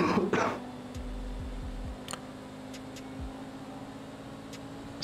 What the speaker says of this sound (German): Hast du gehustet?